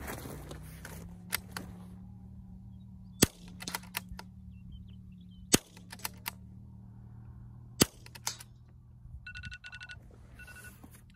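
Rifle shots fired at steel targets 80 yards away on an outdoor range, several sharp, loud cracks spaced a second or two apart over a low steady hum, with faint metallic pings and a brief electronic beeping near the end.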